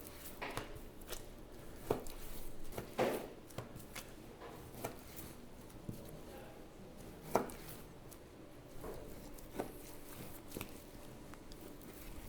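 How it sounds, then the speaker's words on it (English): A knife slices a boneless pork loin into thick chops on a board, giving quiet, sparse knocks and cuts spaced a second or two apart against a low, hushed background. "we're just going to go down through, cut these about 1 inch thick, and make some nice boneless pork chops"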